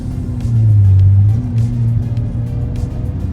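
A Honda Civic with a K24 engine and an aftermarket exhaust rumbles deep and close, swelling briefly into a rev before settling back to a steady idle-like drone.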